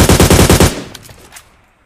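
Loud, close machine gun fire in a military-base shooter game, a fast rhythmic burst of about a dozen rounds that cuts off, followed by fainter distant shots and fading echo.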